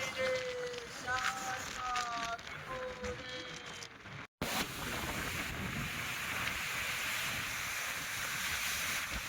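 Water pours over rocks at a waterfall, a steady broadband rush that carries through the whole clip. A voice sounds over it at the start, and there is a brief dropout partway through.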